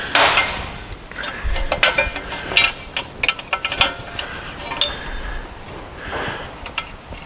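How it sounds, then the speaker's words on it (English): A nut is tightened on a car's rear wheel bearing, giving off a close series of metallic clicks and ratcheting taps in uneven bursts, with light clanks of tools and parts between them. "I just nip up that nut."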